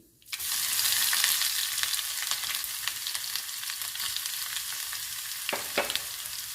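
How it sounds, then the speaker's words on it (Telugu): Spices for a tempering crackle and sizzle in hot oil for a red-lentil and amaranth dal, a close bright hiss that jumps in at once and carries sharp pops and stir clatter. "ఇప్పుడు తాలింపు పెట్టుకుందాము."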